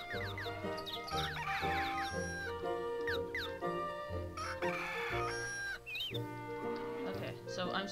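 Game chickens and a rooster cluck and crow in Little King's Story, bright chirpy calls scattered over busy, continuous game music throughout.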